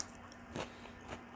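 Someone bites into a raw camas bulb with two quiet, close crunches about half a second apart over a soft background hiss.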